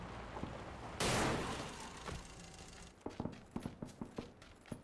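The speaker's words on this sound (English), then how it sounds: "I hear gunfire." Distant gunfire in the PUBG battle royale game, a sharp loud burst followed by a quicker string of faint, evenly spaced pops.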